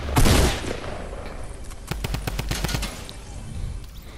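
Rapid bursts of video game gunfire, a loud volley up front followed by a spray of sharp repeated shots over a busy background.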